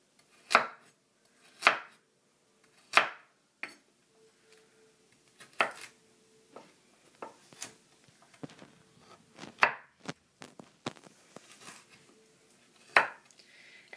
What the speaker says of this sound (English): And some carrots. You want to cut them really fine.